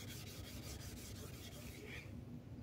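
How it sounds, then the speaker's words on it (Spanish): Wet sandpaper scrubs limescale off the plastic frame of a fish tank in quick, rhythmic back-and-forth strokes, a faint, soft rasping heard close up. "Ese lodo blanco es todo el sarro que estamos eliminando con la lija."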